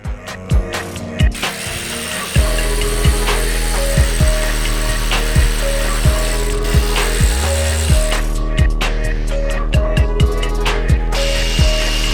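Ratchet wrench clicking rapidly as 10 mm valve cover bolts are loosened on a 2006-2011 Honda, with repeated bursts of close pawl ratcheting separated by brief pauses, no talking.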